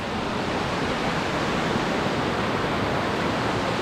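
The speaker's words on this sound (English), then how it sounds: "Over a brook." A mountain brook flows beneath a bridge near Arch Rock in the Great Smoky Mountains, giving a steady, dense rushing wash of water that stays loud and unbroken throughout, with no voices.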